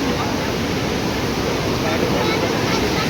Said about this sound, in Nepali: यो खोला चाहिँ यस्तो खतरासँग आइरहेको हेर्नु